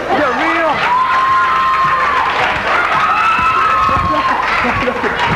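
A crowd at a televised surprise-show boxing bout cheers and applauds, loud and close, with shouts and whoops rising over continuous clapping and voices mixed in throughout.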